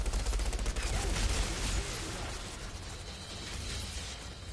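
Sniper gunfire in a video game, dense loud cracking bursts and heavy low rumbling for the first two seconds, then continued fainter battle noise.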